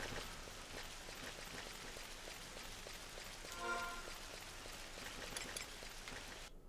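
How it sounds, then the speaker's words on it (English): Rain falls in the video game Final Fantasy XI as a faint, steady hiss of drops on surfaces. It runs evenly throughout and then cuts off abruptly at the very end, with no voices. "Oh, did the rain just stop?"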